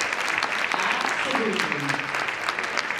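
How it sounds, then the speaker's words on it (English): An audience at a 2019 women's empowerment summit applauds loudly, dense continuous clapping filling the room, with a faint voice briefly audible beneath it. "Let's give her a round of applause."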